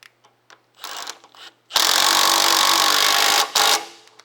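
Power tool running under load for about two seconds as it drives bolts back into the front wheel of a Tilmor 520 tractor, with a short second burst after a brief pause, preceded by quieter clicks and handling noises.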